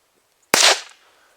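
A single loud survival rifle gunshot with a stiff trigger, fired outdoors at close range: one sharp crack followed by a short, fading echo, preceded and followed by quiet.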